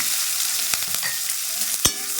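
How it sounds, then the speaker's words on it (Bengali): Chopped onions and green chillies fry with whole spices in a pan, a loud, close, continuous sizzle punctuated by quick scraping stirs and one sharp spatula knock near the end. "এর মধ্যে আমি 2টো ছোটো পেঁয়াজ, 4টে লঙ্কা কুচি দিয়ে দিলাম"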